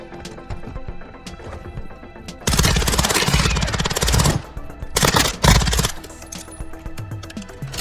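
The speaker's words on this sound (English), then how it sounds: "You are taking effective fire." Bursts of gunfire in Call of Duty Modern Warfare 2 DMZ, with sustained loud automatic firing in two main stretches among lighter game sounds and distant shots.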